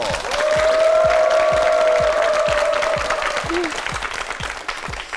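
Applause from the studio audience of a Korean TV quiz show about the Korean language, a sustained burst of rhythmic clapping that fades gradually, with a host speaking over it.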